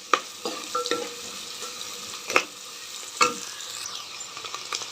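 Curry leaves and turmeric fry in a pan for a Rayalaseema-style makhana gravy, with a soft steady sizzle broken by several sharp scraping stirs of a spoon against the pan, close and fairly quiet.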